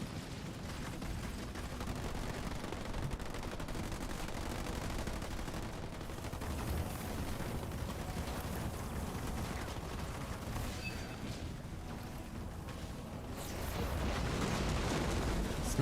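Sniper fire amid a Halo Wars 2 battle, a dense, sustained wash of gunshots and explosions under steady combat noise, swelling louder toward the end.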